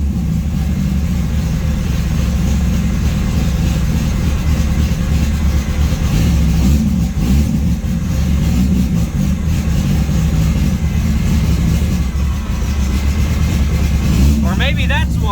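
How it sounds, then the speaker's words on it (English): A 1200hp 2JZ engine swapped into a Volvo 240 idles with timing advanced to 31 degrees, giving a rough, continuous low rumble close by while someone talks over it. "Goddamn idling at 31 degrees advanced."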